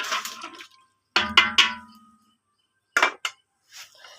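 Biryani stirred in a pot on a clay stove in a village home, with a few separate bursts of metal utensil scraping and clanking against the pot, close and fairly loud, separated by silent gaps.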